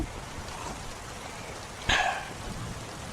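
Steady rain falling on a surface during a nor'wester night by a roadside tea stall, a soft continuous patter with one brief louder splash, no voices.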